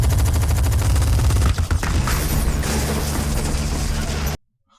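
Dense, continuous automatic gunfire roars in a firefight scene from the film Dredd, a loud sustained barrage with brief dips before cutting off abruptly.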